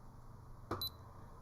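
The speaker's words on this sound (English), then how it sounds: "Sorry, something's beeping at me." A camera overheating from recording at too high a quality gives a brief, faint electronic warning beep, a quick double tone in a quiet room.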